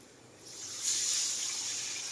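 Water poured into a pan with sugar for the khaman tempering: a soft, steady splashing hiss that swells after a quiet start and keeps flowing close by.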